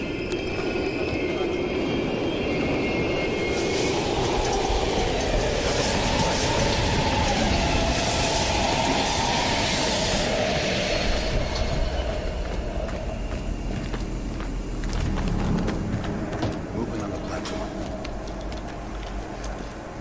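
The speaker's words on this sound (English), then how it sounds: "We can use a train to slip past." A train rolls through an abandoned East German station in the Call of Duty Black Ops Cold War video game, a loud, sustained rumble with clattering and hiss that swells and fades over twenty seconds, with faint speech beneath.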